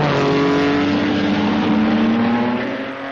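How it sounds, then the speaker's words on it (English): A 1953 Maserati 250F Grand Prix car races in a Formula 2 event, its engine a loud, continuous, close roar that holds steady and fades slightly near the end, with no speech. "This 1953 Formula 2 race has the new 250F Maserati"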